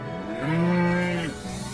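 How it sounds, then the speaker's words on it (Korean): A mother cow bellows loudly for help after her calf falls into a hole, giving one long, close, drawn-out moo that swells and then fades. "이 엄마 소는 송아지가 구멍에 빠지자 큰 소리로 도움을 요청합니다."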